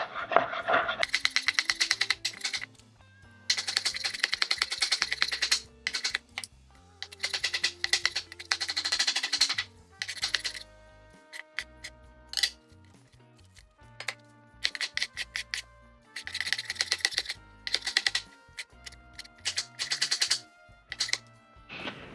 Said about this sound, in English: We're gonna do another rough cut on these.